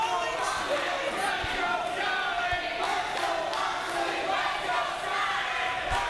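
An independent wrestling crowd at an IPW show cheers and roars in a dense, continuous wall of noise, loud and sustained with no single voice standing out.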